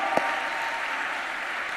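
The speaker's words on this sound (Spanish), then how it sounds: "yo aplaudiría con un poco más de emoción" A church audience claps, a brief burst of dense, steady applause with a single sharp clap standing out near the start.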